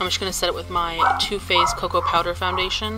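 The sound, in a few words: dog barking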